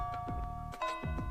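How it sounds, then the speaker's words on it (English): A school bell in the Fate/EXTRA video game rings as a repeated two-tone chime, several clear strokes sounding against a faint steady tonal background. "The bell rings."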